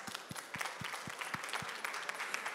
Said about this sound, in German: Wenn ich jetzt klatschen könnte, das ist euer Applaus.